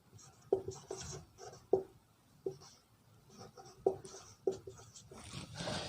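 Writing on a board during a science lesson: soft scratchy strokes in short irregular bursts with small taps, faint and close, without speech.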